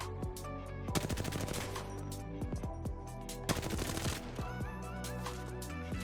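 Rapid automatic gunfire in a video game while anti-recoil is tested on an XIM Matrix, a steady stream of sharp shots in bursts over a constant tonal background, with no talking.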